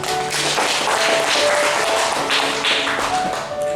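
Applause from a church congregation during a Sunday service, a busy wash of many people clapping at close range under faint tonal music, with no one talking.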